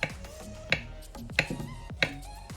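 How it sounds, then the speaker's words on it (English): A knife cuts through a ripe banana on a cutting board with four crisp, evenly spaced chops, each a sharp tap against the board in a quiet kitchen. "I'm going to be cutting my banana."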